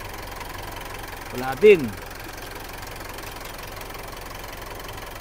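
A car engine with suspected blow-by idles quietly and evenly in the background, a low steady hum throughout, while someone speaks briefly near the start.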